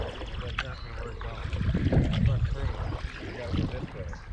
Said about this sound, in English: I gotta paddle on the same side as the wind because you have the power